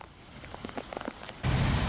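Heavy rain pours down in a downpour, starting as scattered patters and then breaking into a sudden loud, dense hiss of rain hitting surfaces nearby.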